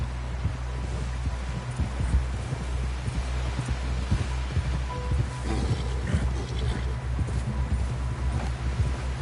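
Horse hooves clip-clop at a steady walking rhythm, fairly close, with a low rumbling background throughout.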